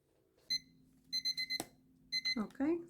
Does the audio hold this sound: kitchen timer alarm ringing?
yes